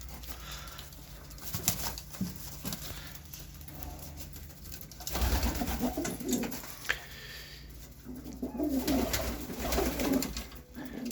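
Pigeons coo softly inside a coop, low throaty calls repeating over a constant background hum, with occasional faint rustles and patters nearby and no voices.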